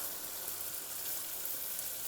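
Boiled potatoes and carrots frying in a pan for pulao: a steady, even hiss of sizzling oil, close and continuous for a couple of seconds, with no talking.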